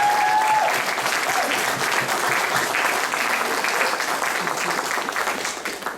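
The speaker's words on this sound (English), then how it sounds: "You can clap for that." An audience claps in sustained, dense applause at a campaign kickoff event. The sound is loud and even throughout and fades slightly at the end.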